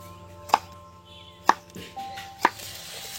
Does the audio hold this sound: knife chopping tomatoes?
yes